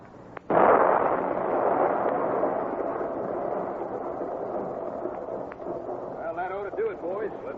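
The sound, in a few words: dynamite explosion in a radio drama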